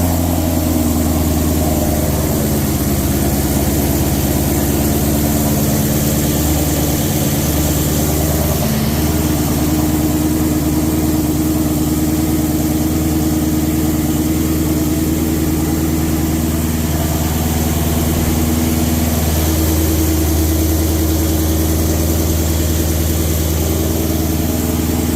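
A 1300hp Mustang engine with brand-new On3 Performance turbos idles loud and steady at close range, a deep rumbling drone with no voices.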